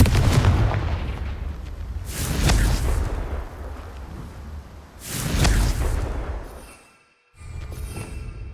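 Confringo blast spells explode in the Hogwarts Legacy video game, two heavy booming blasts with rumbling decay over steady battle noise, then a brief silence and the din resuming, with no speech.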